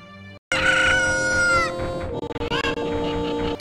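Cucco chickens in a Zelda Kakariko Village game crow loudly and alone, a long rising rooster call followed by choppy clucking bursts.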